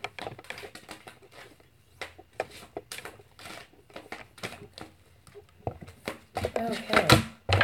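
Tarot cards shuffled by hand give quick papery riffles and light clicking bursts, with a person talking over them throughout.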